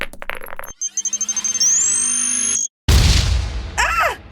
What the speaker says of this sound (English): I've got a grenade. Fire in the hole!